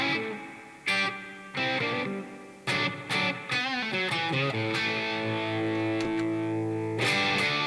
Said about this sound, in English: Nice reverb.